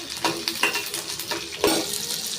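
Dal, garlic and shallots frying in a pan, a steady close sizzle broken by several scraping stirs of a spoon against the metal, with no talking.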